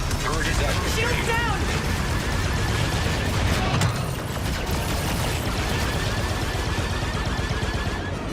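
A vehicle-mounted turret fires in the Star Wars Outlaws video game. Dense, continuous bursts of rapid fire run close and loud, mixed with mechanical rattling and clanking.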